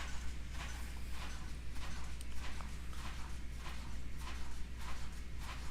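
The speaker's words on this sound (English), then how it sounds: "it's nice to see that you all can hear my washing machine as it runs real quick" A washing machine runs through a loud cycle, steady low hum beneath a rhythmic, repeating clatter and knocking that pulses roughly twice a second at close range.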